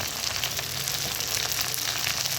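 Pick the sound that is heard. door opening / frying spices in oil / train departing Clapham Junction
frying spices in oil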